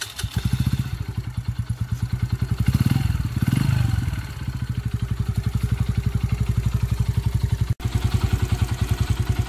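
A Yamaha YB 125SP motorcycle with freshly changed oil idles close by in a steady, loud, evenly pulsing beat that swells briefly midway and then settles back into its regular rhythm.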